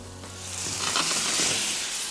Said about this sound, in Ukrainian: Дивіться, як гарно підсмажились гриби.